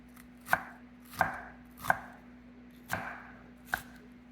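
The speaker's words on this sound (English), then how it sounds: "chopping up some pepper" Half a bell pepper and a medium onion chopped with a knife on a cutting board. Five crisp, separate chops land at uneven intervals over a low, steady hum.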